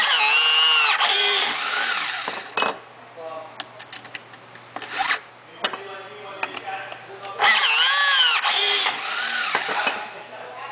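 Battery-powered electro-hydraulic rivnut tool whirring in short bursts as it installs rivet nuts, with a pair of longer rising motor runs, brief clicks and handling noises in between, and someone talking over parts.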